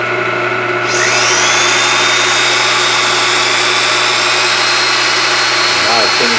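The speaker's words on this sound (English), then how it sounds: "I'm going to sand this surface" A loud, steady whine of a power sander grinding continuously against old barn wood being made into a bowl, with a sharp rise in pitch as it starts up, running on without pause.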